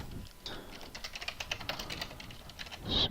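Fingers typing on a computer keyboard, close and crisp, with a steady run of quick key clicks followed by a louder thump at the end.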